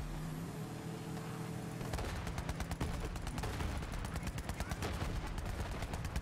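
Sustained automatic gunfire in Borderlands 3 kicks in after a low rumble, rapid evenly spaced shots rattling on loudly for several seconds with no voices over them.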